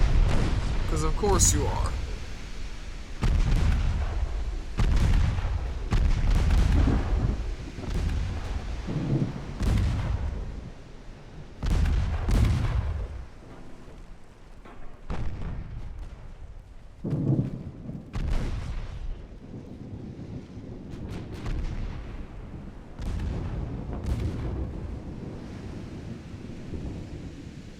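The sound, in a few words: naval battle torpedo and gunfire explosions, video game Ultimate Admiral Dreadnoughts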